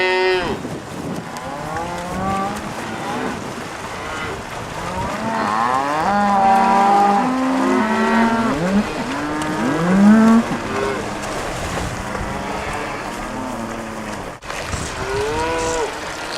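A herd of cattle low and moo continuously during a cattle drive, many overlapping calls of varied pitch rising and falling, some close and loud, others farther off, with no talk.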